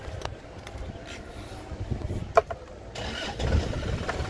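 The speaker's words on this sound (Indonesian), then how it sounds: "Coba kita nyalakan mesinnya." A silver 2000/01 Isuzu Panther LS car engine being started: a short cranking burst catches, then the engine settles into a steady low idle that swells slightly louder toward the end, close by.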